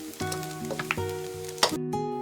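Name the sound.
crispy fried rice and shrimp sizzling while stirred in pan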